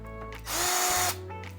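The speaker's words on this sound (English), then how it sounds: "Now I'm gonna put the bigger drill bit in there." A power drill bores small holes for a homemade plant germination station and greenhouse, one short loud whirring burst that spins up and winds down, close by, with no talk.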